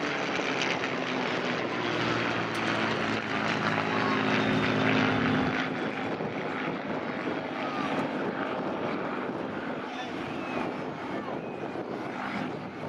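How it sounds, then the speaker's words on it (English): Propeller engines of a Lancaster bomber roar overhead at a Battle of Britain Memorial Flight display, a loud rumbling drone that swells and then slowly fades as the plane passes. "So you're seeing a Canadian Lancaster flying today"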